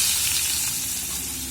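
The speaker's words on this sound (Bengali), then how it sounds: "এবার দিয়ে দিচ্ছি পেঁয়াজ।" Onion dropped into hot oil with whole cinnamon, cardamom, cloves and peppercorns sizzles loudly and steadily, close up, with no talking.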